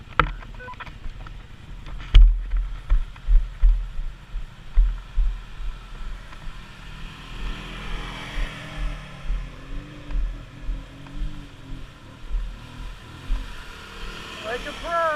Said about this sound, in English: Robbie, you definitely gotta give it gas and let that front come up a little